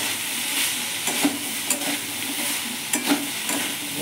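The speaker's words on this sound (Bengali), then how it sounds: "ভালো করে মিক্স করে নিচ্ছি।" Spice powders, including cumin, are stirred with a little water in a hot wok. Steady soft sizzling is joined by rhythmic scraping strokes of a spatula against the metal, heard close up with no talking.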